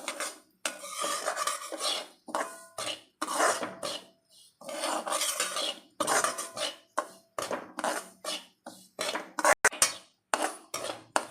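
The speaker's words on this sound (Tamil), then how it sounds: "இப்போ இந்த நெய்யிலேயே ரவையை நல்லா செவக்க வறுத்துக்கலாம்." Semolina being roasted in ghee in a pan for kesari, with steady scraping and stirring rasps from a spoon against the metal, repeated in short bursts with brief pauses, close and moderately loud.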